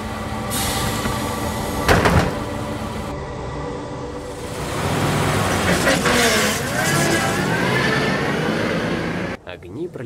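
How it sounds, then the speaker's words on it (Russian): A bus engine runs and pulls up in the visual novel Everlasting Summer, a steady low rumble building over about ten seconds with a brief door-like clatter early on, mixed with background tones. "Звук работающего двигателя вернул меня к реальности. Подъехал автобус."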